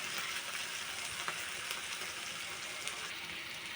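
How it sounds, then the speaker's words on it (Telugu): Chopped onions and cumin seeds fry in hot oil for an ash gourd curry, giving a constant dense sizzle with faint pops and crackles and no speech over it. "గోల్డెన్ కలర్లో వచ్చే వరకు వేయించుకోవాలి ఉల్లిపాయలని."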